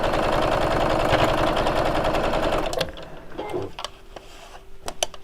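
A domestic sewing machine top stitches around the edge of a sewn item, a steady fast mechanical whirring for nearly three seconds before stopping, followed by a few faint clicks and handling sounds.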